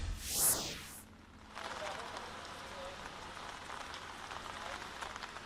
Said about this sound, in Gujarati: અમદાવાદના અલગ અલગ વિસ્તારો છે ત્યાં અત્યારે વરસાદ વરસી રહ્યો છે.